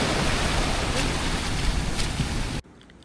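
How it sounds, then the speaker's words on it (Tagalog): Strong ocean waves crash and surge with a dense, loud roar and wind buffeting the microphone, then the sound cuts off abruptly to near quiet just before the end. "Malakas po masyado yung alon."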